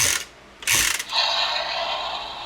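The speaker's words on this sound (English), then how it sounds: "when you move this, you get the lights and sound, or well, the transformation sound" Transformers Bumblebee Power Charge toy robot transformation sound: short mechanical whirring and ratcheting bursts, a couple of quick clicks followed by a longer buzzing whir, close and fairly quiet.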